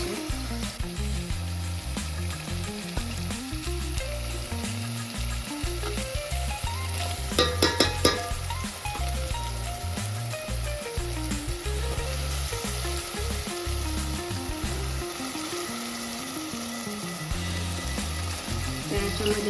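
A veg pulao base sizzles steadily in a hot pan, a continuous close frying hiss with a brief burst of stirring clatter partway through and no voices.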